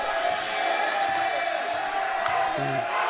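A basketball crowd at a varsity game cheers steadily for a player, a broad sustained roar with scattered whoops, heard under a commentator's voice.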